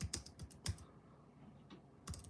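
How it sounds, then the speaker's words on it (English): Soft, close typing on a computer keyboard during a live hangout, a few scattered keystrokes with gaps between them, quiet and alone. "So I'm going to type into the chat here."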